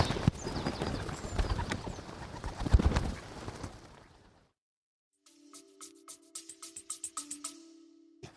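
Pigeons cooing outdoors, a soft rhythmic run of low coos after a stretch of rustling wind and handling noise, close and clear in a quiet setting.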